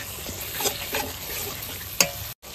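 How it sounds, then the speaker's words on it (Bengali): Poppy seed paste goes into a frying pan and is stirred, giving a close, continuous sizzle with a few distinct scraping strokes and a sharp clack near the end. No voices. "এবার পোস্ত বাটাটা দিয়ে দিচ্ছি।"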